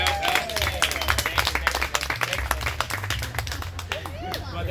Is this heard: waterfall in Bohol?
no